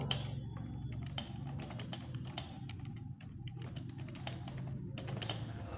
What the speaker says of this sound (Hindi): सपोज मैं एक ये टाइप कर